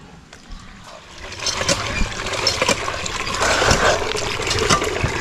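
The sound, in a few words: washing sugar palm fruit (kaong) with water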